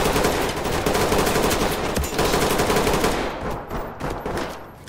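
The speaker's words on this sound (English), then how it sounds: "there's one guy with a pistol who just like shot at me" Rapid pistol gunshots in a video game, dense repeated cracks over a noisy background for about three seconds, then thinning out into a few scattered, fainter shots.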